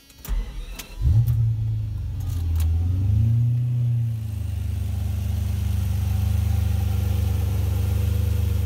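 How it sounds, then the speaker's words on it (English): A 1962 Ferrari 400 Superamerica cranks with a few sharp clicks and catches, its engine flaring up then dropping to a steady, smooth, loud idle close by. "So now I'll try to start the car for you and give you a little listen."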